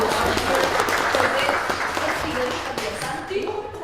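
Conference audience at a business forum claps steadily, a dense sustained applause that thins slightly toward the end, with some talking under it.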